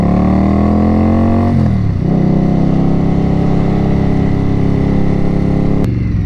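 A 2018 Indian Scout Bobber motorcycle engine runs loud and close while riding, with a steady rumbling drone that shifts pitch as the bike changes speed partway through.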